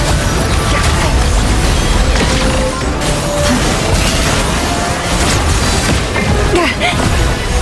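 Bombs go off in a Genshin Impact battle, a dense run of loud booming blasts and crashing impacts layered over continuous game effects.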